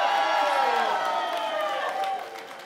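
A cosplay contest audience at a 2018 convention cheers and claps loudly for the second-place winner, a dense burst of applause and whoops that fades slightly toward the end.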